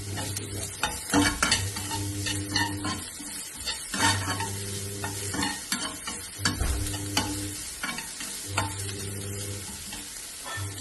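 Chopped onion and ginger stir-fried in a pan for a shrimp roast, a soft sizzle under frequent clattering stirs and scrapes in a repeating rhythm, with no speech.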